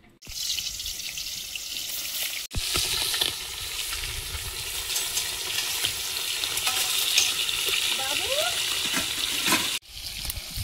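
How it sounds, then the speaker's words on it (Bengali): Fish frying in hot oil in a wok, with a steady, loud sizzle that runs almost continuously, briefly breaking and then resuming. No one talks. "মাছ ভাজবো, তেল দিয়ে দিচ্ছি কড়াই।"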